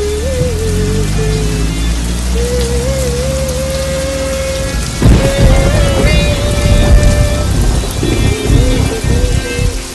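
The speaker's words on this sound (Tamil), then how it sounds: "மழை பெஞ்சிக்கிட்டு இருக்கு." Heavy rain falls continuously with a rumble of thunder, loud and close. A sustained wavering musical tone drifts over it, with a brief louder splash or crash partway through.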